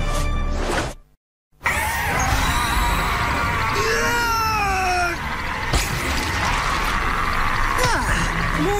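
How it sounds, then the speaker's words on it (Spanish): A loud, drawn-out shrieking scream with wavering pitch, sounding almost like a yowling cat, over dense background noise and a brief silent gap, from the animated series Marvel Spider-Man (2017). "Tienes un grito poderoso."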